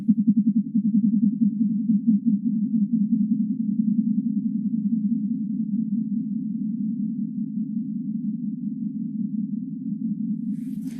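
Alpha Centauri A's stellar oscillations sped up and turned into sound: a steady, loud low hum with a fast pulsing beat, running alone and unbroken, fading slightly toward the end.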